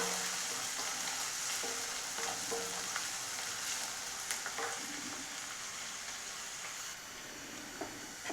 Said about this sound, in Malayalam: പൊടിയായി അരിഞ്ഞ ഒരു ചെറിയ സവാള ഇട്ട് കൊടുക്കാം. അപ്പോൾ ഇത് നന്നായി ഒന്ന് വഴറ്റിയെടുക്കാം.